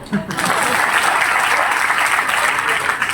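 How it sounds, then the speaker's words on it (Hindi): Audience applause at a direct-selling motivational seminar on attitude, a dense, steady wash of clapping that begins abruptly and continues loud and unbroken through the whole stretch, with no talking over it. "बजाओ तुम सर के लिए तालियां।"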